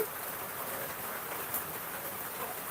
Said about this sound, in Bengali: কারকার এলাকায় এরকম বৃষ্টি হচ্ছে